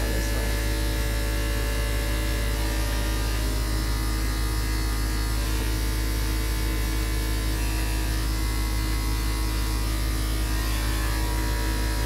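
An electric clipper trims facial hair in a steady, continuous close buzz that runs the whole time with no talk.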